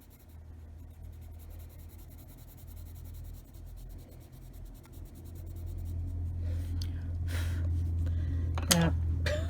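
A colored pencil scratches and rubs on paper while an owl drawing is colored in, soft continuous strokes over a low background hum, with a few louder scrapes near the end.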